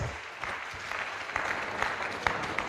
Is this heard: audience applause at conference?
yes